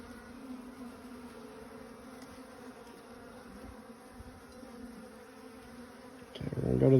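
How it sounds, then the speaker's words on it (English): Honeybees buzzing softly on a hive frame, a low steady drone that is fairly faint and close, swelling louder near the end as bees move nearer; a voice is faintly present. "Got a couple of bees on there."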